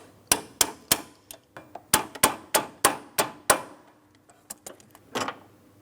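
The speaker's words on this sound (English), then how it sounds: "Now on this clip I do have to tap it in position" Pliers tapped against a radiator clip during a radiator replacement on a 2004-2008 Pontiac Grand Prix 3.8L V6: a run of sharp metallic taps, about a dozen close strikes in an uneven rhythm, then a few softer knocks.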